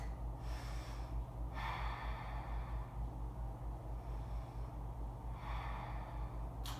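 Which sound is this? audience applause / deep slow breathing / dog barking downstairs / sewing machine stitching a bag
deep slow breathing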